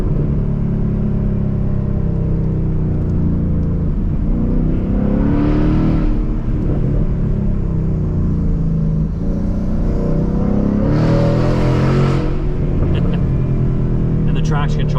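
A 2022 Mustang GT's engine rumbles loud and steady throughout, running on Wolf Pen Gap, a winding mountain road, with someone talking over it the whole time.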